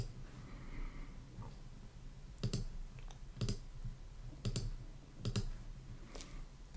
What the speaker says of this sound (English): then I'm just gonna right click it,